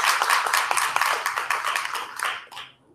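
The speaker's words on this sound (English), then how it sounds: "Just give him a hand clap" A small audience at an entrepreneur workshop gives brisk, close clapping for a panel member, with the individual claps clearly separate before fading out after about two and a half seconds.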